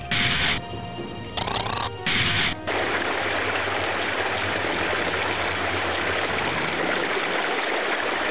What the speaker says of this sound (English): When I pull this lovely lever, the cow's stables will become completely flooded with milk.